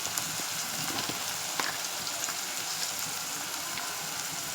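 Turmeric and salt fry in a pan for street-style batani chaat with a steady close sizzle and crackle, uninterrupted and without speech.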